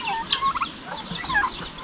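A turkey gobbles among farmyard chickens and ducks, giving a few close, rapid warbling bursts in quick succession over a quiet background.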